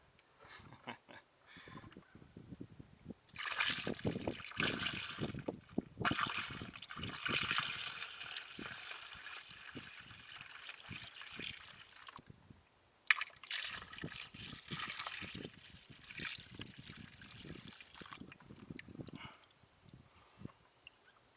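Coolant leaking from a crashed Audi A7's radiator, splashing and trickling in uneven bursts, pouring and dripping onto a surface nearby, with a short pause partway through.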